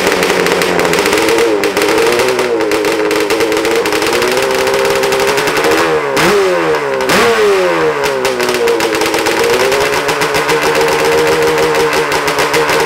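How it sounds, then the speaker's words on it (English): A 485cc drag Banshee ATV two-stroke engine running on methanol, extremely loud and close, revving hard in sustained rattling blasts with rising and falling pitch sweeps, no talk over it. "give you all a few revs so y'all can hear it"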